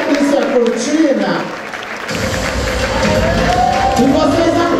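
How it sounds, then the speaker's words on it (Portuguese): Loud, dense crowd applause and cheering at a Hollywood-themed party finale, sustained clapping with voices and music mingled in the hall. "Pode aplaudir muito."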